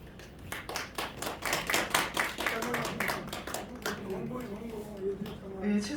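An indoor audience at a Korean association general meeting claps in a burst of rapid, uneven hand claps that thins out as a voice speaks over it.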